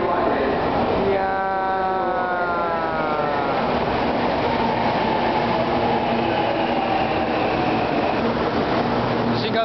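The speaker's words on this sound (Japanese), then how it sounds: "来ました新幹線。" A Shinkansen bullet train pulls into Shin-Osaka station with a loud, steady rushing roar and a falling, whining electric motor tone. Station noise and a voice sit faintly underneath.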